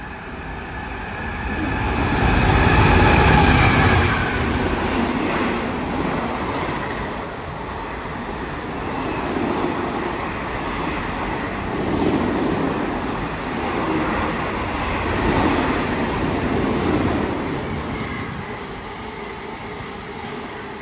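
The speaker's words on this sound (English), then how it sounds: "Here comes a freight train." A freight train rolls past on the tracks, its rumble swelling loud within the first few seconds and then holding as a long steady roar and clatter that slowly eases, with no talking over it.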